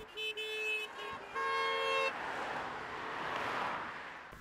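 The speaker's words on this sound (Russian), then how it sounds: "Водители отвечали им автомобильными гудками." Car horns toot from drivers greeting a motor rally convoy on the road through the Sergiev Posad district, several overlapping honks up front followed by passing traffic noise.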